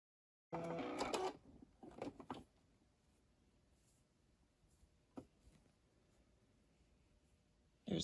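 A sewing machine stitches plush fabric pieces together in a short loud whirring burst, then a few softer mechanical clicks and taps follow in a quiet room.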